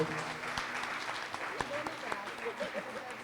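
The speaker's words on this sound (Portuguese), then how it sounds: "Pode aplaudir o Senhor pela vida do Heitor" A church congregation claps in scattered applause, light and fairly distant, while a voice speaks over the clapping.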